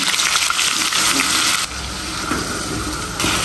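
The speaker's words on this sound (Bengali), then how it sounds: "তেলের মধ্যে এখন আমি পেঁয়াজ বাটাটা করে দিলাম।" Onion paste sputters in hot oil in a wok with a loud, bright, continuous sizzle that dips briefly in the middle and then surges back to full strength.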